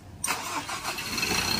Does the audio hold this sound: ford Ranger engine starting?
yes